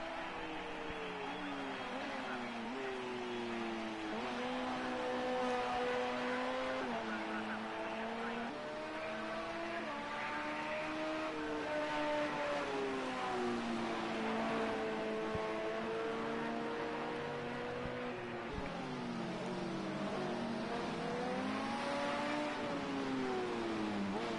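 Endurance race car driving on a track, its engine rising and falling through gear changes in a steady, loud drone with shifting pitch, a commentator talking over it throughout.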